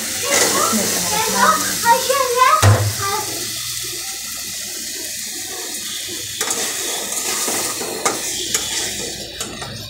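Taro stems tipped into a hot pan hiss and spatter in a loud burst of frying, settling into a steady sizzle with occasional stirring noises.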